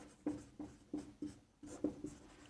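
Pen strokes on paper while working a math problem, about seven short scratchy bursts in an uneven rhythm, close and quiet.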